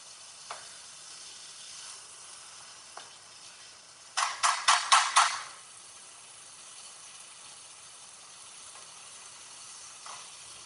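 Tomatoes and dried fish cook in a pan with a steady, quiet sizzle, broken midway by a short burst of louder pulsing sizzles or stirring before it settles back to a low hiss.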